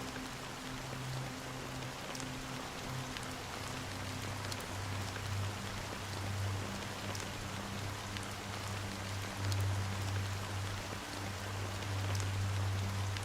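Steady rainfall from the game Honkai: Star Rail, a dense even hiss of drops hitting surfaces that continues throughout, with a low droning tone running underneath.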